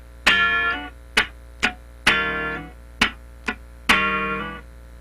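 Funk rhythm guitar playing a half-step slide on the upbeat: sharp muted chord stabs alternate with a few longer ringing chords, all close and clean with no talking.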